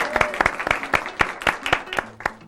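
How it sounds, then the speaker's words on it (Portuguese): Studio audience of a live program claps in sparse, distinct strokes, a handful of sharp hand claps spaced unevenly, with faint voices in the background. "Palmas para eles que aceitaram participar do programa."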